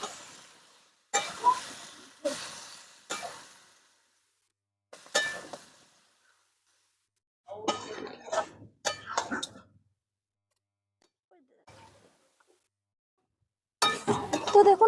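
Goat meat scraps are stirred in a spiced pan, giving sharp intermittent clinks and scrapes of a utensil against the metal, spaced by brief quiet gaps.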